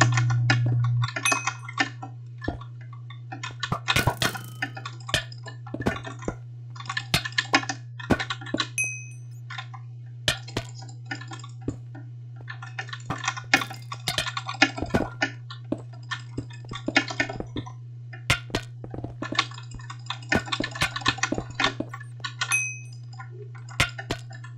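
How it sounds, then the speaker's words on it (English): Rapid, irregular clicking of a computer keyboard with occasional mouse clicks, close up over a steady low electrical hum, continuing in bursts throughout. "Can you hear my keyboard and mouse at all"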